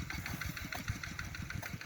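A tractor engine idles and chugs steadily in a low, even rumble, with no one speaking.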